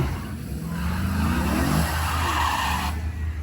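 A drag racing car spins its tires on the strip, a loud skidding squeal over the engine roar at a distance, holding for a few seconds before cutting off.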